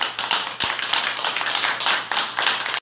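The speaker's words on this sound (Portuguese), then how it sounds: "Palmas, palmas para vocês merecem." A crowd claps steadily and densely for ambulance drivers at a gathering of emergency vehicle drivers, the applause close and loud from start to finish with no speech.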